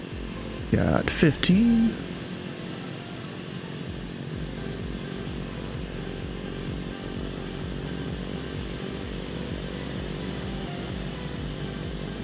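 Turbine engine of a Turbine Duke aircraft spooling up: a steady, rising whine and drone that holds for the whole stretch after a brief burst of voice at the start, with a short spoken remark over it.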